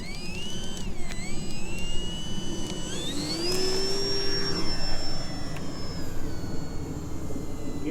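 An electric Durafly Spitfire RC model plane, a 1100mm 4s warbird, takes off from grass, its motor and propeller whine rising in pitch as it accelerates and then holding a steady high tone as it climbs away.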